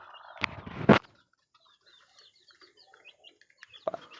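A hen in a backyard gives two sharp, loud clucks close by. Soft chirps from chicks follow, and another short cluck comes near the end.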